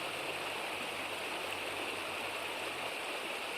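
The Katun river runs near its source at the Gebler glacier, a steady, soft, even rush of flowing water that holds unchanged throughout.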